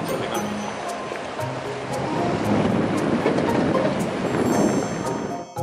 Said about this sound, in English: but the waves made them regret it